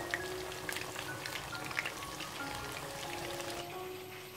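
Chicken breast pieces deep-frying in oil give a steady, dense crackle with scattered brighter pops, continuous and close, with no talking.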